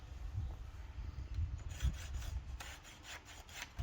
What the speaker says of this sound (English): and then just follow your line with your handsaw